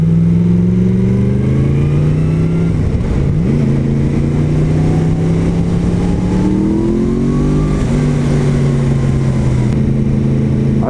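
A Yamaha MT-10 motorcycle engine revs loud and close, its pitch rising and falling through several throttle changes with a brief dip near the middle, running steadily with no talk.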